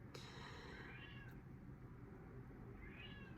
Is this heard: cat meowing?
yes